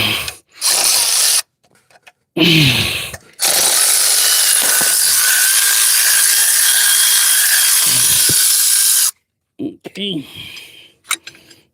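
Loud, close ratcheting on bolts while a 1968 Thunderbird engine is being pulled, with several long continuous bursts of clicking broken by short pauses and brief bits of talk.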